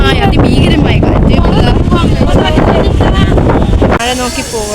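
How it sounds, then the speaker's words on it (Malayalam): Strong, gusty coastal wind at Kanyakumari roars steadily and loudly into the microphone near the Thiruvalluvar statue, a dense buffeting rush that eases slightly near the end, with voices partly audible beneath it. "ഭയങ്കര കാറ്റ്, അതിഭീകരമായ കാറ്റ്"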